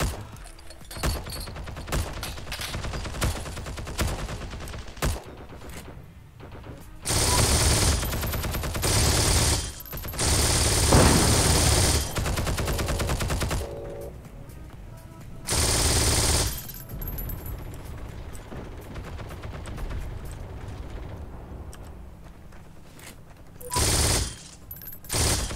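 An MG42 machine gun rattles out long sustained bursts in Heroes and Generals, loud and close, with several bursts of a few seconds each broken by quieter gaps of distant shots.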